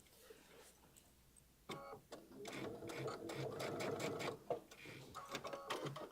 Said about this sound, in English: I just overlapped a little bit on my stitching just so that I would have a little extra support on that